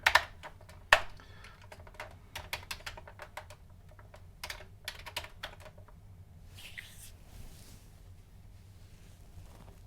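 Keys clatter on a Commodore 64 keyboard as a program is typed in: scattered, irregular clicks in bursts, fairly close and moderately quiet, with no one talking.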